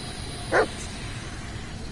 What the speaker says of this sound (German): Der Hund hat definitiv Angst.